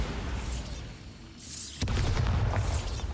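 A Bombarda spell explosion in Hogwarts Legacy hits with a sudden sharp onset partway through, then rolls into a loud, sustained booming rumble after a quieter lead-in.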